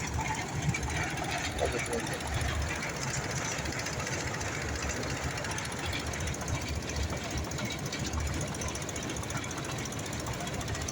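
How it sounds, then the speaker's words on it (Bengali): A steady low rumble and rhythmic clatter of a passing train in Madhabpur, Habiganj, rolls on throughout, with a voice speaking faintly over it. "ওই যে দেখো ট্রেন যাচ্ছে, ট্রেন"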